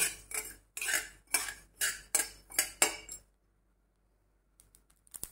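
A rapid series of metallic clinks and scrapes as spices are tossed in a dry pan, about seven strikes, then near silence with a few faint taps.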